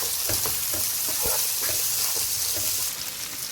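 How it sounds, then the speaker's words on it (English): Garlic and onion sizzle steadily in a hot pan for a seafood linguine stir fry, with a continuous close frying hiss and a few soft stirring knocks, no voices. "garlic and still fry it on, and then add my onion and fry them on"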